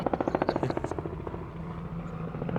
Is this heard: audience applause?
no